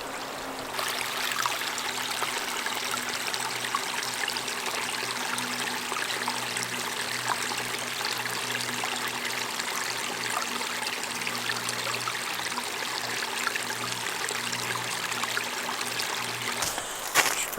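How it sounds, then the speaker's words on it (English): A small intermittent mountain stream splashes over little waterfalls near a campsite, producing a continuous, close, bright rushing trickle with steady low background hum. "Some little mini waterfalls."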